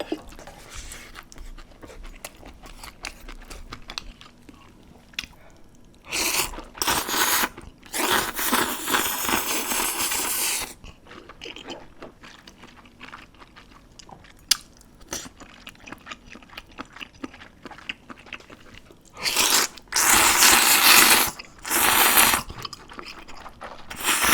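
Lobster jjamppong noodles being eaten up close, with loud bursts of slurping and crunchy chewing in several clusters separated by quieter pauses, no talk.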